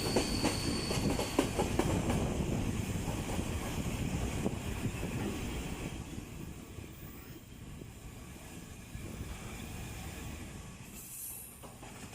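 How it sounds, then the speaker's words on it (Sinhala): A passenger train rumbles along the rails in Sri Lanka with rhythmic clickety-clack of wheels, fairly close at first and gradually easing off, with no talking. "මේ දුම්රිය තමයි අපි මීරිගමින් නගින්නේ."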